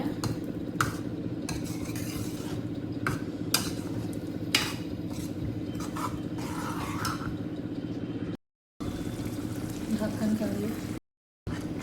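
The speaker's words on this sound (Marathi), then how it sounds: "भाजी हलवून घेऊ" A spoon stirs pav bhaji vegetables in a pan, scraping and clinking in repeated strokes over a low bubbling simmer, with two brief dropouts near the end.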